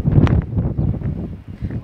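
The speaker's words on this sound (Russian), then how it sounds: "дикий ветер просто" Strong wind at a hotel in the Emirates around sunset: low, rumbling gusts buffet the microphone in uneven bursts, loud and close, with no one speaking.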